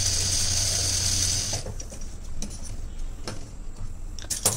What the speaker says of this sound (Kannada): ಇಲ್ಲೂ ಅಷ್ಟೇ ನೀಟಾಗಿ ಸ್ಟಿಚ್ ಹಾಕ್ತೀನಿ.